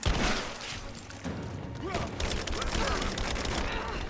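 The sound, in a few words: shotgun blasts in Rise of the Tomb Raider video game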